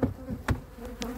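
A close, continuous buzz of honeybees on a hive frame during a queen inspection, broken by a couple of sharp knocks or handling thuds from the frame.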